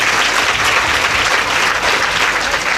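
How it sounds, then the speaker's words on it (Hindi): Loud, dense applause from an audience welcoming the goddess during a Shrimad Devi Bhagwat Katha religious discourse, steady and sustained throughout without a break. "तालियों से स्वागत करिए ना।"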